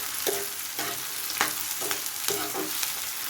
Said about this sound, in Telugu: ఇవన్నీ కూడా బాగా మిక్స్ అయ్యేలా కలుపుకోవాలి